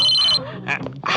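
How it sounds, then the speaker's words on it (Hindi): A mobile phone rings briefly with a bright electronic tone at the start, then voices and other sounds follow. "फोन फोन ये फोन आपका किधर मोबाइल बजा?"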